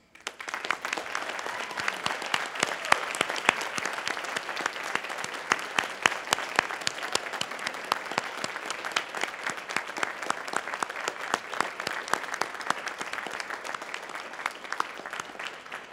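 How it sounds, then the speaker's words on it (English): Engineering graduates at a university spring convocation clap together in dense, sustained applause that runs evenly through the whole stretch. "Now it's your turn to honor them with your cheers and applause."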